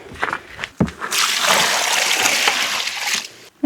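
Water being poured into a container during homestead work with tree bark, a few knocks and splashes first, then a steady close gushing pour lasting about two seconds before it tapers off, followed by a final clunk.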